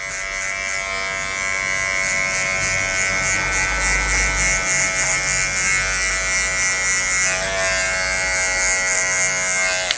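Electric hair clippers run continuously while cutting a skin fade, giving a steady, close, loud buzz with slight shifts in pitch as the blade moves through hair.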